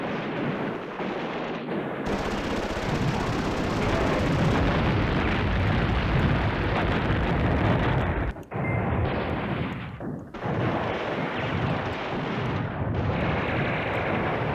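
Airstrike explosions in Command Ops 2, a war video game, make a long, loud, continuous roar of blasts and rumbling that drops out briefly twice before resuming.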